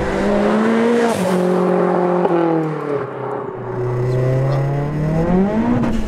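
A fully forged, big-turbo 480bhp SEAT Leon Cupra R accelerates hard, heard from inside as a loud, continuous engine drone that climbs in pitch through the gears with brief dips at each shift.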